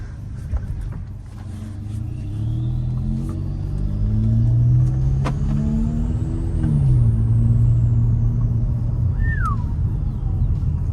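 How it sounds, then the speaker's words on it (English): A warmed-up Volkswagen Passat 1.8T with a 3-inch CTS turbo downpipe with cat revs with a low, rumbling engine, while a thin, high turbo whistle rises and falls with the revs close by. "Oh, now it's warm. You can hear the turbo sound."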